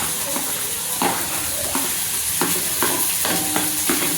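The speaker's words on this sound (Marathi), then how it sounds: "हे चांगलं खरपूस होईपर्यंत आपण त्याला फोडणी देऊन घ्यायची आहे" Onion, garlic and green chili fry in a hot pan for rajma, a steady close sizzle with a few stirring scrapes and clinks of a utensil every second or so.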